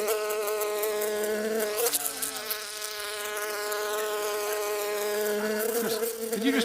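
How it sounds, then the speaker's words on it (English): A single bee buzzes loudly and close, its drone wavering in pitch as it hovers, with no talking. "Spent 4 months training that bee to sit on the mic."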